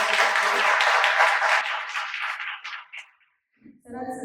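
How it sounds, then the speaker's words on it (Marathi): Audience at a film school Q&A session claps in a lively burst of applause that fades out over a few seconds, followed by a brief pause before a voice begins speaking. "पुन्हा एकदा आपण जोरदार टाळ्या."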